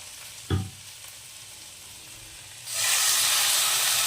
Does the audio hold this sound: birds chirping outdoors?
no